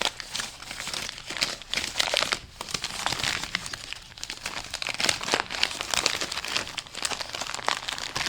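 Paper wrapping around a third gear from a 2002 Honda Odyssey automatic transmission is crinkled and handled continuously, producing close, loud, dense crackling and rustling with no talk.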